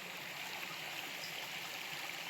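A steady, gentle rush of clear stream water flowing beside the path to Aare Waterfalls, Nagalapuram, continues evenly and fairly quietly, with no voices.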